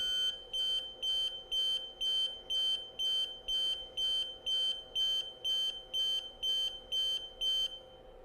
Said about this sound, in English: we're going to hear the alarm